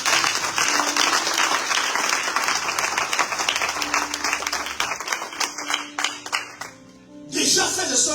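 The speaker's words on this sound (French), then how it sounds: "Est-ce que vous acclamez le Seigneur?" A church congregation gives loud, sustained applause during a service, a dense, continuous clatter of many hands that rises and falls slightly for several seconds, with a few voices mixed in.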